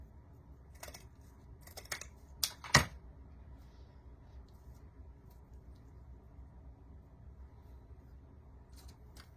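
Scissors trim a ribbon bow on a picture-frame pumpkin craft, giving a few quiet close snips in quick bursts early on, with one sharper click standing out, then a faint low room hum.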